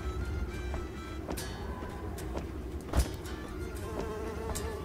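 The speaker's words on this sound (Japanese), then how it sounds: "ハエがいるね。" A fly buzzes close and steady in the game Home Behind, with faint soft clicks and bumps scattered through the drone and one louder thud near the middle.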